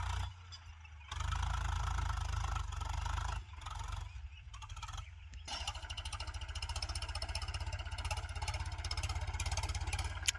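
A Kubota diesel tractor engine runs with a low, heavy rumble, dropping briefly before settling into a steady, rhythmic chugging idle close by, in a stony cotton field.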